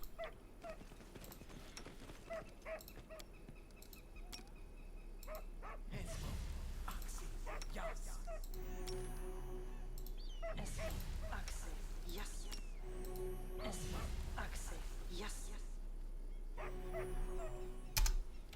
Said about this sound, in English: What's that little doggy barking at?